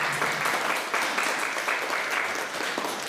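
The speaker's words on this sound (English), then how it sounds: "Can you guys give them a big round of applause" A crowd at a Willamette University Chemistry Club mad science demo applauds steadily, dense clapping swelling in waves throughout with no voices on top.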